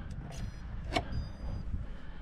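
A small RC basher car runs with a thin, whirring electric motor whine that rises and falls in short bursts. It sounds moderately distant and fairly faint over background noise.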